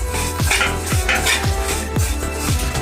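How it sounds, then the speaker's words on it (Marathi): Two cups of sesame seeds being dry-roasted in a pan, a utensil scraping and clinking against the metal in a steady rhythm about twice a second, close and fairly loud with no talking. "2 कप तीळ आपण भाजून घेऊ।"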